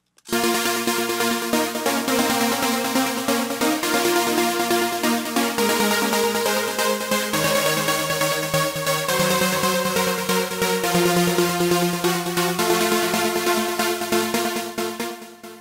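A bright, sustained synth lead plays a melodic trance line over steady chords, loud and continuous throughout with no voices.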